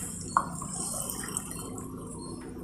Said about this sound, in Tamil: 6 கப் தண்ணி விட்டுக்கணும்.